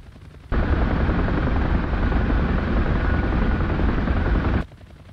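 Helicopter rotor roar mixed with rapid gunfire in the DCS combat flight simulator, a loud continuous burst that starts abruptly, holds for about four seconds, then cuts off, with no talk.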